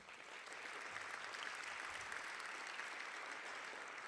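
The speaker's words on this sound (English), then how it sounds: "A big round of applause for our catering team" Steady applause from a crowd at a State of the City address, continuous and even throughout, moderately distant with no voices standing out.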